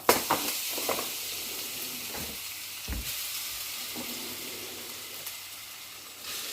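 Mango pieces hit hot sesame oil already crackling with mustard and fenugreek seeds, giving a steady sizzling hiss with a few sharp pops and stirring clatters near the start, while frying continues evenly underneath.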